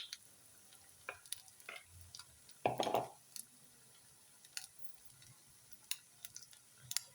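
Egg bajji batter frying in hot oil gives a soft, faint sizzle, with a short burst of stirring and scraping partway through and occasional light ticks.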